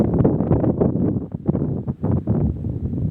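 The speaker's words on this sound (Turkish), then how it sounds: "Rüzgar da var." Wind buffets the microphone in rough, uneven gusts, a loud rumbling roar that rises and dips for the whole stretch.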